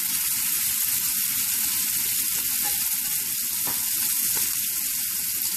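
Shrimp and minced garlic sizzling loudly in a hot pan, a strong unbroken hiss with a couple of sharp pops, close and steady for the whole stretch with no voices.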